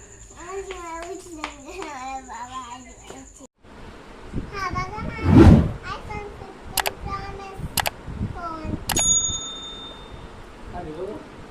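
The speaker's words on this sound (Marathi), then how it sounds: "बेल वाजव" A doorbell rings at a house door, giving a brief ringing tone with short clicks amid children's chatter and someone speaking nearby.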